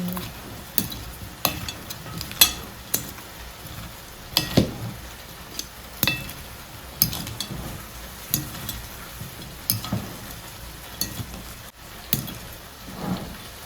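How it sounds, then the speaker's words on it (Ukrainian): A spoon stirs and tosses a salted autumn salad with plums in a bowl, producing irregular soft clacks and scrapes spaced a second or so apart, close up and alone. "Тепер трошечки підсолюю салат і перемішую."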